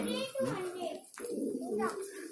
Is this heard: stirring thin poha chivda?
no